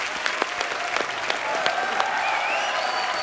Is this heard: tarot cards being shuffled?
no